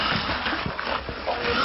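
A possessed woman growls and hisses while others try to restrain her: a rough, guttural, animal-like growling with breathy hisses, close and continuous, with voices mingled in.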